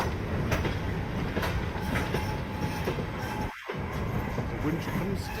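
Loud, continuous rumble of a train arriving at Winchcombe station on the heritage Gloucestershire Warwickshire steam railway, with rhythmic clicking of wheels on rails, nearby and steady throughout, with faint voices mixed in.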